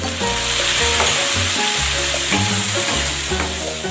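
Shrimp sizzle loudly in a frying pan, a dense, constant crackling hiss close up, with occasional stirring knocks and a steady background hum.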